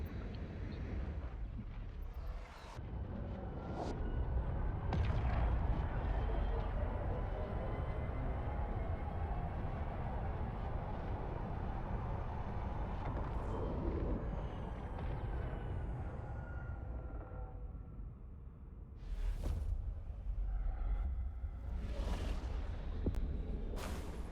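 A starship's warp drive in EVE Online whooshes as a long, steady, roaring rumble, swelling and fading over many seconds, with a few sharp bursts near the end.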